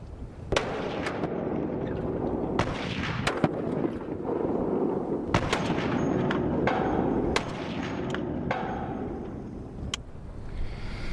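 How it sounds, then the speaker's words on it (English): Heavy Barrett .50 caliber rifle shots, several sharp booming reports spaced irregularly across the span, each with a rumbling tail over a steady loud background of other gunfire and battle noise. "When you shoot a Barrett, you know it."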